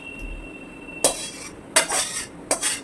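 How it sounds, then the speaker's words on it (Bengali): A metal kadai is scrubbed and rinsed, three sharp bursts of scraping and clattering close by against a quiet kitchen background. "এখন এই কড়াইটা ধোবো"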